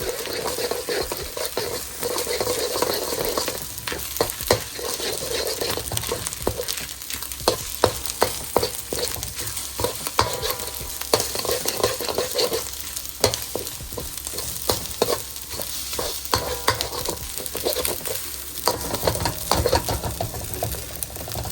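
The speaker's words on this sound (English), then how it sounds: "You are then going to scramble your egg in that pan." An egg is scrambled in a hot frying pan, with steady close sizzling broken up by frequent scraping and tapping as a utensil stirs it. The sound is continuous and nobody talks.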